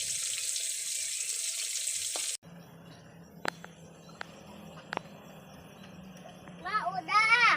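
Water runs loudly from a tap for a couple of seconds while hands are washed outdoors by a rice field, then stops, leaving faint insects, a few sharp clicks and a voice toward the end.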